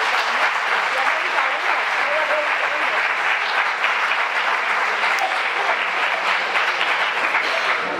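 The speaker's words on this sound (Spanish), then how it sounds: "Así que pido un aplauso para ella." An audience at a women's week literary event applauds author Luz Gabás with dense, sustained, even clapping that fills the whole stretch at a steady level.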